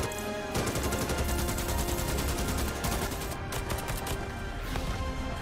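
Rapid automatic gunfire from a Starship Troopers movie trailer, dense bursts of shots rattling continuously for several seconds at a loud, close level.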